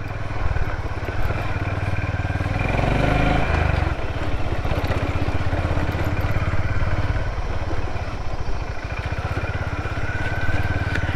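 Honda CB350 motorcycle engine running steadily on an off-road ride toward Manang, Nepal, a continuous low, throbbing beat that stays close and even, with faint voices at times.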